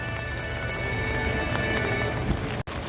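Rain falls steadily on surfaces at Hollywood Studios theme park, a dense continuous patter close by, briefly cut off at the end.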